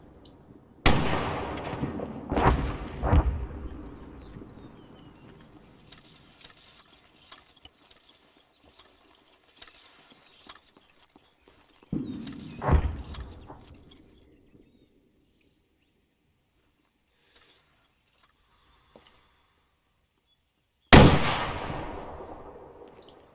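Training detachment firing an RPG rocket launcher outdoors: three sharp, loud blasts spaced well apart, each trailing off in a long rumbling echo, with faint insect chirping in the quiet stretches between.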